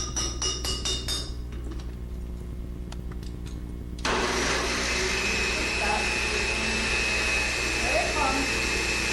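A food processor starts up and runs loudly, chopping onion with sour cream for stuffed potatoes, a steady whirring motor after a few clinks of preparation.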